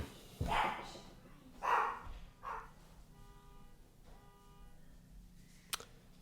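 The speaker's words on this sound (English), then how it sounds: "that's real life with the dogs barking because of a horn outside" Several dogs bark in short bursts, with three strong barks in the first few seconds and fainter ones after. A horn sounds outside with a steady tone under them, and a single sharp click comes near the end, all in an indoor room.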